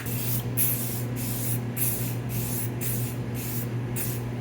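An aerosol can sprays in about eight short, regular hissing bursts, close by, over a steady low mechanical hum.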